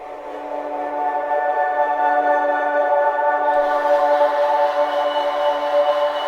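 A dark, ominous sustained texture from the NI Scene Nightshade plugin swells in gradually, layered droning tones growing louder and brighter midway, with no voice over it.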